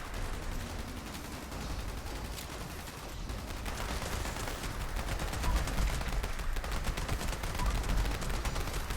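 Rapid, sustained gunfire rattles on in a Fallout game during VATS targeting, a dense, steady stream of shots with no talking.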